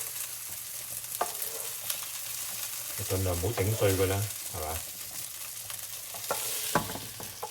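Pan-fried fish, about ninety percent cooked, sizzles and scrapes as it is transferred from the pan into a pot, the frying hiss swelling midway beneath a speaking voice.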